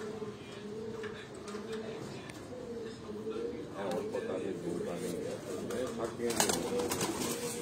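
Pigeons coo softly at dusk at a home loft, low repeated coos woven under ongoing talk and background noise.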